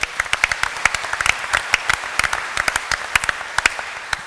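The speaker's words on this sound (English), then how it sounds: "Frank, a round of applause for you," An audience at a panel event applauds Frank with a brisk, crisp burst of many hands clapping, steady and fairly close, with no talk over it.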